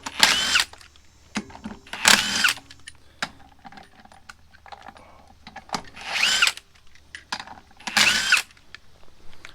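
An impact wrench rattles off the 22 mm lug nuts on a Honda Ridgeline wheel in four loud, short bursts spaced a couple of seconds apart, with faint clinks of metal between them.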